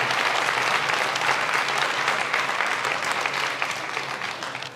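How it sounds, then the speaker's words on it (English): Staff and guests at a public schools staff recognition afternoon applaud long-serving employees, a full, steady burst of clapping from a seated audience that holds for several seconds and tapers slightly at the end. "Big advanced round of applause."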